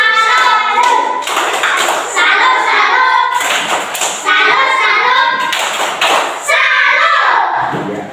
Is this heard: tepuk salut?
yes